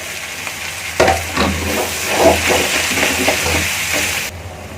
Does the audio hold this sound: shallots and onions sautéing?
yes